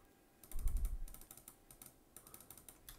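Computer mouse clicked repeatedly while editing in Adobe Photoshop 2022: quick, light, close-up clicks in irregular bursts over a low desk thump, with no one speaking.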